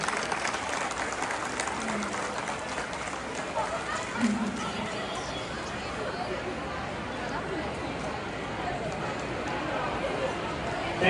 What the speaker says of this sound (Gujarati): એક વાર જોરદાર તાળી થઈ જાય